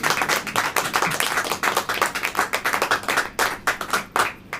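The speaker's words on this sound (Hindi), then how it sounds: "सबसे पहले ताली बजाइए।" A church congregation claps in praise during a Hindi Christian sermon, a dense run of sharp handclaps that goes on steadily and loudly with no voices over it.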